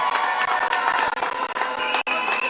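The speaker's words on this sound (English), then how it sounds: "So can we give them a round of applause?" Crowd cheering and applause at a Trinidad and Tobago general election night victory rally in 2025, a dense, loud roar of voices, whoops and claps with sharp, irregular bursts throughout and a brief dip near the end.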